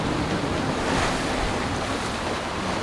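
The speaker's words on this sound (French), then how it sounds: "on se rend compte de la hauteur des vagues" Continuous roar of ocean waves after a storm, with heavy wind buffeting the microphone, a dense, unbroken wash of surf noise.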